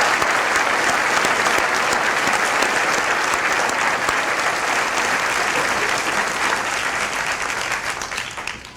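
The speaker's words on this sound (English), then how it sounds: "I ask you to join me in applause to acknowledge their hard work and their many accomplishments" Steady, dense applause from a commencement audience honoring a dental medicine graduating class, a continuous wash of clapping that fades gently toward the end.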